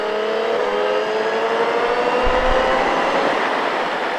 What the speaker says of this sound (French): tu redresses la moto gentiment et tu accélères fort